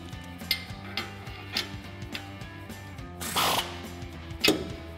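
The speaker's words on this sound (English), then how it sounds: "Now this is an 8-millimeter square bit on my ratchet here. I'm just gonna tighten that down." Ratchet with an 8 mm square bit tightening an MBRP exhaust clamp on a 2019-2023 RAM 1500, giving a series of close, sharp clicks spaced about half a second apart, then a brief louder rasping burst near the end.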